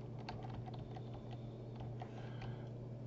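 Typing on a computer keyboard while working in Photoshop Beta: quiet, quick clusters of key clicks over a low steady hum, with no talk.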